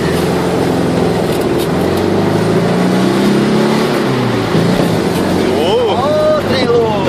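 A Volkswagen Fusca 1300 engine revs hard with a steady, loud rumble and rising pitch toward the end, heard from close by inside or near the car amid a constant background roar.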